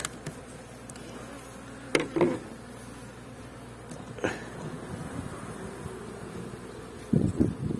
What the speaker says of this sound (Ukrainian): Тут два вулика тільки. Були карніка.